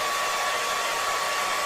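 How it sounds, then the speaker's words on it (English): A new hairdryer blows steadily on a freshly painted woodturned bowl, giving a loud, constant whirring rush with a faint steady whine and no pauses. "we're just going to try and speed up the process before we start the next bit of turning with my new hairdryer"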